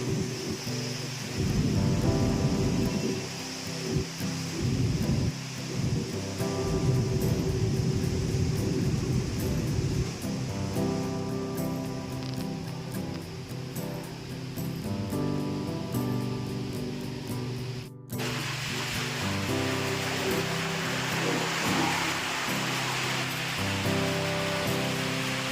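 Heavy typhoon rain pours down with gusting wind in a steady, dense roar, broken by a brief cut before the downpour resumes.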